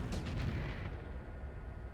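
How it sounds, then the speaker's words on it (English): A rift launcher fires in the space combat game Starsector, a deep booming blast with a few quick cracks at the start, then a rumbling tail that stays fairly low in level. "Rift launcher takes flux to fire."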